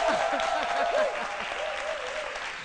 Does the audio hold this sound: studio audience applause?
yes